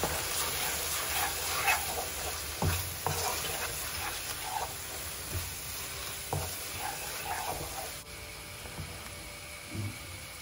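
Cooked rice being mixed with salt, chili powder and amchur powder in a hot pan: a continuous soft sizzle with scraping, shuffling stirs and occasional clinks, close-up and without speech.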